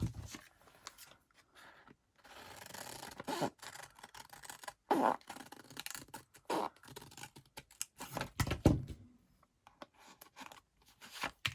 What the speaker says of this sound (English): I'm going to start cutting now